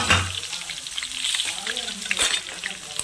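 Curry leaves, mint and dried chillies sizzle and crackle in hot oil, with sharp spitting bursts over a steady fry at close range.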